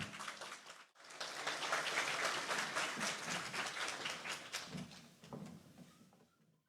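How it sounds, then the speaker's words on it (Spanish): Audience applause at a presentation of a national inventory of glaciers and mountain lakes welcomes a speaker, a steady, fairly distant round of clapping that swells after a brief gap and fades out gradually. "La invitamos y la recibimos con aplausos,"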